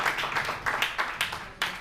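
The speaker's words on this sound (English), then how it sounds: "Let's give her a round of applause." A round of applause from an audience at an SDA gathering, steady dense clapping with individual claps popping through, fairly close and moderate in level, with no talking over it.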